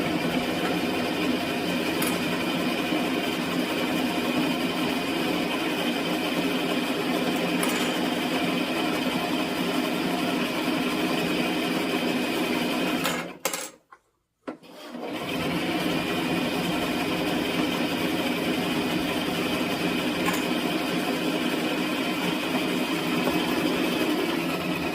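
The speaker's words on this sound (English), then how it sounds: "We're just gonna stick with the sewing machine" A home sewing machine stitching dress fabric runs in a steady, close, high-pitched whir for a long stretch, cutting out briefly near the middle before resuming at the same even pace.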